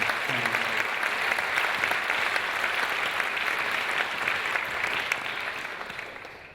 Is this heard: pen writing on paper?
no